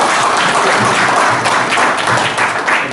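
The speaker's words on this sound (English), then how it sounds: "give a big hand," An audience at a leadership and team-building talk gives a loud round of applause, dense overlapping clapping filling the room continuously for a few seconds.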